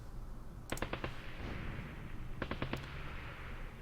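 Tank gun fire in the ASL mod wargame, from armor with 50mm main armament: two quick clusters of sharp cracks, a second apart, fairly faint over a steady background hum.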